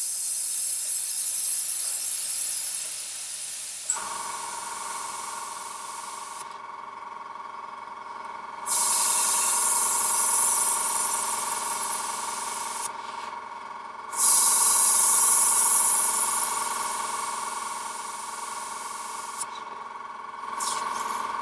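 Iwata HP-CS Eclipse airbrush spraying at lower air pressure, a close steady hiss that starts abruptly and then comes in repeated bursts, each switching on and off sharply over an ongoing airy background.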